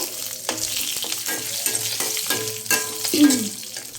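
Ajwain (carom seeds) sizzle steadily in a hot pan, with a spoon stirring and scraping in regular strokes and a brief louder hiss near the end.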